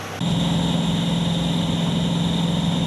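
Border guard patrol boat engines warming up before a sea patrol: a steady, loud engine drone starts abruptly and holds evenly with a high whine on top, no voices.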